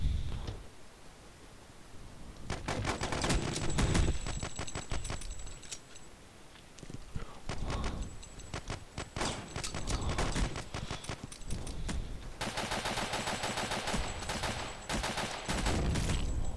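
Rapid gunfire from the online stickman combat game Boring Man crackles in dense volleys and scattered single shots, with a few brief lulls between bursts.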